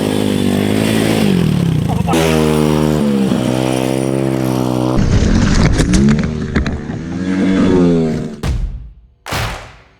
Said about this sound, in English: Flat track with the flat track bikes.